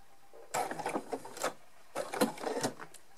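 A sewing machine topstitches around the edge of a small fabric pouch at stitch length 3, running in two quick bursts of rapid mechanical clatter separated by a short pause, close and fairly quiet.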